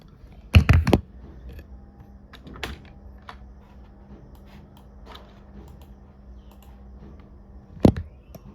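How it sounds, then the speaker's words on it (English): Keys clatter on a computer keyboard as a web address is entered: a quick cluster of loud, close clicks, a few lighter scattered taps, and another sharp keystroke near the end. "So what you need to do is type in HTTP,"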